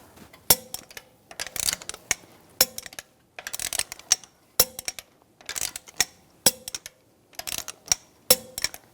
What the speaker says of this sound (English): Now we're going to torque the lug bolts to 90 foot-pounds in a cross pattern